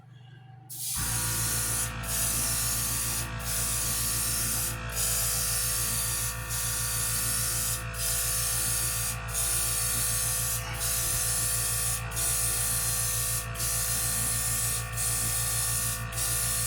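A continuous Gaahleri Ambition Series airbrush hiss spraying paint onto a model's body, steady and close, with faint rhythmic mechanical ticks from the compressor underneath throughout.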